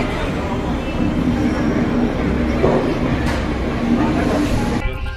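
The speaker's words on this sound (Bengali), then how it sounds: "আমাদের ট্রেন নির্ধারিত সময় অর্থাৎ 7:35 ইন্দোরের 4 নম্বর প্ল্যাটফর্ম থেকে ছেড়ে দিল" A train pulling out of platform 4 at Indore station, heard from on board as a steady loud rumble with faint clatter and a brief squeal, people talking over it.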